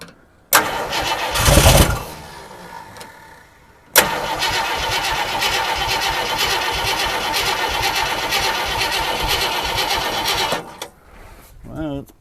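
Engine of an abandoned Ford Galaxie station wagon cranks and catches, running roughly and loudly for several seconds before cutting out, with a brief earlier crank burst and a voice speaking briefly near the end.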